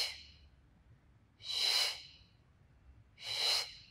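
Forceful exhales during a Pilates leg-change exercise, three audible out-breaths: one fading at the start, then two loud, breathy bursts about two seconds apart, close to the mic with no talking.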